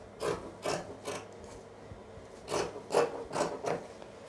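Scissors snip through fabric for a maxi A-line dress in short, evenly spaced cuts, a few quick strokes, a pause, then several more, close and fairly quiet, with no talking.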